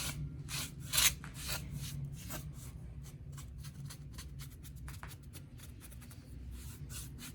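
A sponge dabs paint onto a fountain in small stripes, making a steady series of soft, scratchy rubbing strokes close by, fairly quiet and with no talk.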